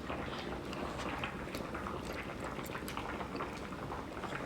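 Steady bubbling of spaghetti sauce boiling in a pot, close and continuous, with soft pops and gurgles throughout.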